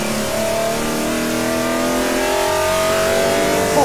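An Aston Martin One-77 with its V12 accelerates hard down a straight, a loud close engine note rising steadily in pitch throughout with no talk over it.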